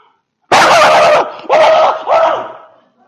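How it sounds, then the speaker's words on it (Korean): A dog barks three times, loud and close: one long harsh bark, then two shorter ones in quick succession, the last trailing off. "개를 키우는데도 개소리도 모르는 사람이 있어."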